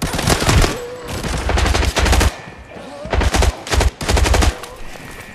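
Rapid bursts of automatic fire from a T03 rifle in a video game, loud and close, in several sustained volleys with short pauses between them.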